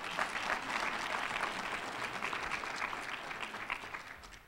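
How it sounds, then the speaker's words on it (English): Applause from an audience at an evening awards celebration, a dense, steady clatter of many hands clapping at once that holds throughout and tapers only slightly toward the end. "So let's give yourselves a big round of applause."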